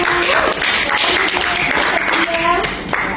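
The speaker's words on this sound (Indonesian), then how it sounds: "berikan tepuk tangannya" Classmates clap together in a classroom, a dense burst of applause running for about three seconds, with children's voices mixed in.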